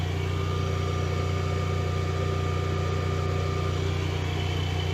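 Steady, unbroken engine drone at idle with a strong low hum and even tonal overtones, close and constant throughout, with no voices or changes in speed.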